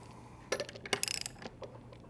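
A torque wrench clicks as a fastener is over-torqued on an assembly line: a quick cluster of sharp metallic clicks and ticks, close but fairly quiet, with no talking.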